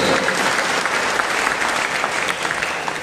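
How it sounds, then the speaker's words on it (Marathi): A church congregation at St. Michael's Church claps loudly together during a sermon, a dense, sustained wall of applause lasting a few seconds without letup. "सर्वांना स्वर्गात जोरदार टाळ्या द्या प्रभूला."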